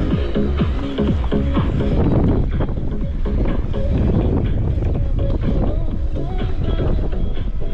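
Strong wind on the Crimean coast buffets the microphone with a constant low roar and rumble, loud and close throughout, with voices talking faintly underneath.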